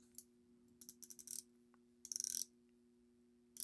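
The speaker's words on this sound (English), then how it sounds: "Nice bezel action." A Zelos Swordfish 40 mm stainless steel dive watch bezel is turned by hand, giving bursts of sharp, close ratchet clicks in quick runs separated by short pauses, quiet and with no talk.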